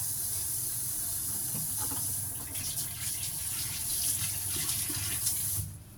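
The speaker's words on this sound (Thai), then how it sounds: "ขอล้างมือแป๊บหนึ่งนะคะ" Hands are washed under a running kitchen tap: a continuous hiss of splashing water that shifts as the hands move, then cuts off abruptly just before the end, with no talk.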